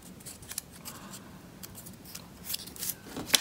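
Scissors snip through paper while cutting out two small tear-shaped chick wings for an Easter treat box made from a toilet paper roll, a run of close, soft rustling cuts ending in a few sharper clips.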